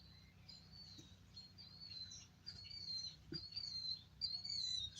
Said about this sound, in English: And if you can hear the birds like I can hear the birds